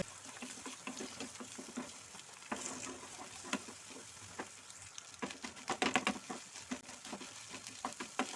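Chopped onions and egg frying in a pan give a steady close sizzle with crackling pops and occasional stirring scrapes, louder bursts near the end, with no talking.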